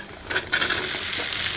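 Vegetable bhaji of cauliflower, onion and carrot fries in a pan with a close, bright sizzle and a few scraping stirs near the start, then a steady crackle.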